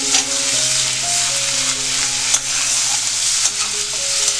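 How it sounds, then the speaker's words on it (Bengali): Chopped onion fries in oil with bay leaf, cardamom, cinnamon and cloves for a prawn-in-milk curry. A loud, continuous sizzle sounds up close, broken by a few sharp spatter pops and stirring scrapes. "কুচি করা পেঁয়াজটা দিয়ে দিলাম।"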